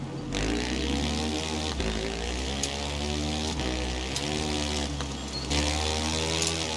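A heavy KTM motorcycle engine drones in GTA, a loud, steady buzzing hum with strong harmonics that briefly dips and shifts pitch several times as the throttle changes.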